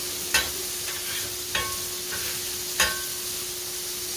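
Prime rib slider burgers sizzle steadily on a hot cooking surface, with three sharp spatula scrapes and clacks as the patties are flipped, close and without talk.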